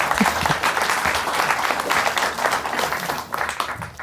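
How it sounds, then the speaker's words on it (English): Audience at a climate and deforestation conference session gives a full, lively round of applause, continuous and fairly loud throughout with a few louder individual claps near the front. "Welcome, Pak Nazir. Round of applause."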